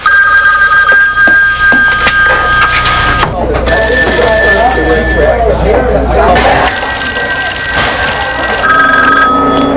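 Bell-type telephones ring from classic movie phone scenes cut together into a collage, bursts of loud, bright ringing that alternate with snatches of dialogue and then return.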